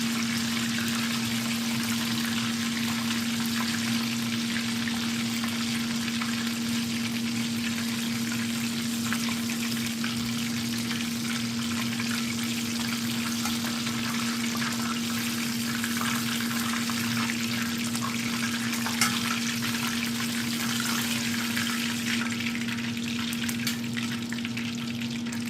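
Chicken fries in oil with a dense, steady sizzle that continues unbroken and loud at close range, over a constant low hum.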